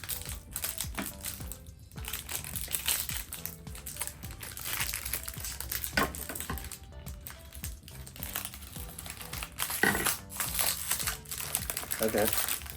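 Foil card packs of Garbage Pail Kids trading cards are cut open and crinkled, with steady rustling, crumpling and small clicks close by throughout, while people talk over it.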